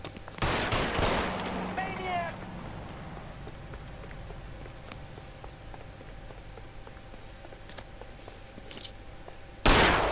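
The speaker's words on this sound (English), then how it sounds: "I'm gonna shoot him in a minute" A rapid volley of gunshots from the video game LA Noire rattles out loudly at the start, with a brief voice among the shots, then fades into a steady hiss of rain-like ambience before a sudden loud burst at the end.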